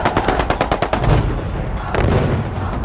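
Machine gun fire in the war film Seediq Bale, a close rapid burst of about ten sharp shots followed by heavier rumbling blasts and echoing gunfire.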